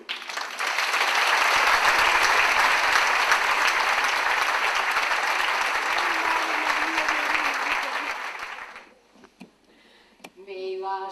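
Audience applause at a traditional Asturian music gathering, a loud, dense burst of clapping that holds for about eight seconds, then fades out into quiet with a few scattered sounds and a brief tone at the end.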